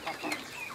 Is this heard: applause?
no